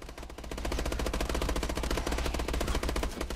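Sustained automatic gunfire from Call of Duty Advanced Warfare exo zombies on the Carrier map, a loud unbroken stream of rapid shots after a brief quieter start, with no talk over it.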